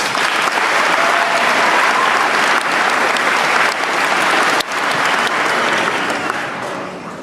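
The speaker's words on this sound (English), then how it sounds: "Graduates, you may give them a round of applause" Graduating students and guests at a high school graduation ceremony applaud, a dense and steady wash of clapping from a large crowd that holds for several seconds before easing slightly.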